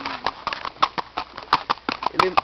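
A horse's hooves clip-clop in a steady walking rhythm on firm ground at a rural farm, close and distinct, while people talk over the footsteps.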